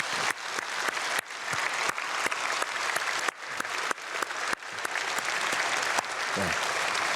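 A church congregation applauds during an early-morning prayer service, steady full-room clapping that swells and holds for several seconds with a few louder individual claps near the front.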